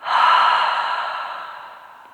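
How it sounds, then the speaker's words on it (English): A person breathes out in one long, steady exhale during a gentle yoga stretch, close and clear, loudest at the start and fading slowly over about two seconds, with no talking. "And breathing out."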